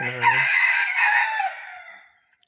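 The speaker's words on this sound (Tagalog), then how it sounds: "Ganda talaga ang tilaok." A captive red junglefowl rooster crows once, loud and close, the call rising then trailing off into silence.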